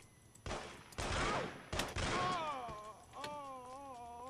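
Gunfire in the Mafia video game, several sharp shots in quick irregular succession over a few seconds, followed by tonal whining game sounds, fairly faint overall.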